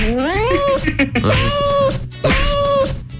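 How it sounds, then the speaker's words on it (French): Cats in a cat piano gag sound out as notes: three drawn-out, close meows, the first rising in pitch, then two steadier tones, with people talking underneath. "Quand je tape donc sur les chats avec un maillet, ça fait une note."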